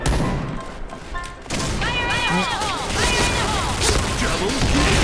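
A grenade blast in the online shooter Point Blank, a loud crashing explosion amid rapid gunfire and game effects, with a player talking over the action.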